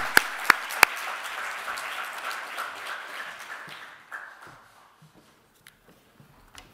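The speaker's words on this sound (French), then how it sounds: "On peut l'applaudir, absolument, je vous remercie." Steady applause from an audience at a lecture fills the room, loud at first and then thinning out and fading into a few scattered claps.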